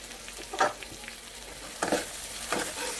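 Green chillies and onion with spices frying in a pan for a sour katla fish head curry, with a steady low sizzle and three distinct bursts of stirring scrapes spaced across the stretch, no talking.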